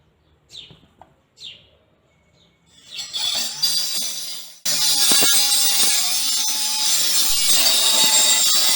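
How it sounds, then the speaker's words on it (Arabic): A red APT 9.25-inch, 2200-watt circular saw spins up after a few faint bird chirps, then bites into a plywood board with a loud, steady, harsh whine that stays close and continuous until the clip ends. "جبت حتة كونتر ضغطتها على مقاس 120 سنتي، وبالمسطرة ومنشار الصينية بدأت أقطعها وأظبط الحروف."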